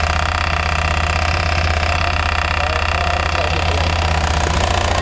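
A motorcycle engine runs steadily up close with a rapid, even clattering knock repeating throughout.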